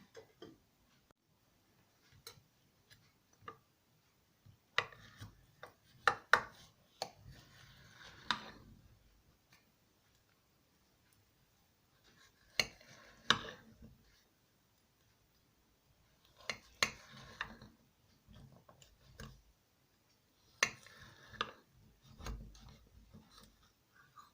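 A knife slicing through a cooled, baked cabbage pie, with several separate bursts of crisp cutting and crust crunching, close and quiet, separated by pauses of near silence.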